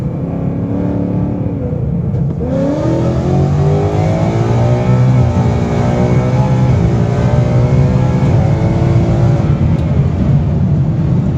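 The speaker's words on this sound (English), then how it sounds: "Just gonna let it shift by itself and put it to the floor" A 2018 Ford Mustang GT with a Whipple supercharger accelerates at full throttle, its loud engine roar climbing steadily through the gears with a brief dip at a shift, heard close and continuous for about ten seconds.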